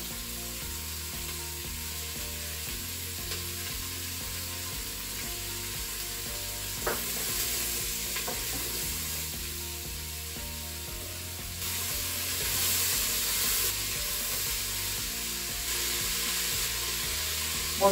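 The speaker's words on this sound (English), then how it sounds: "Once the onions and the peppers have had a few minutes to fry" Onions and peppers fry in oil with a continuous close sizzle, a couple of brief stirring knocks and a soft music bed running underneath.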